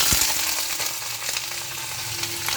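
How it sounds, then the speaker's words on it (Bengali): Cumin seeds, dry red chilli and bay leaf sizzle in hot oil in a kadai, a steady close crackling hiss with a few sharper pops and faint stirring scrapes. "তেল দেওয়া হচ্ছে কড়াইতে, জিরে, শুকনো লঙ্কা, তেজপাতা তেলের উপর"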